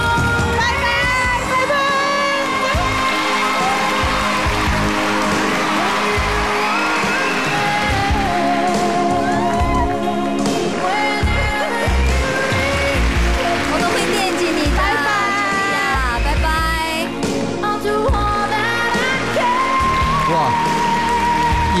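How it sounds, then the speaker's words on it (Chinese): A studio audience at a televised Chinese dating show bursts into sustained applause, a dense, rain-like patter that stays loud throughout, with music playing over it. "掌声响起"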